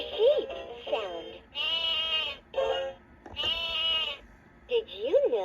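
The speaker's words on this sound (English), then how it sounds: "Hear a sheep sound." A 2007 Leapfrog Fridge Farm magnetic animal toy plays a recorded sheep bleat, several wavering electronic baas in a row, loud and close, with a toy voice speaking in between.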